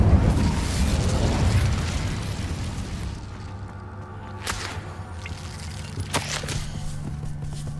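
The Incendio fire spell from Hogwarts Legacy goes off with a loud rushing whoosh of flame that fades over a few seconds, followed by sharp cracking pops and a low ambient hum.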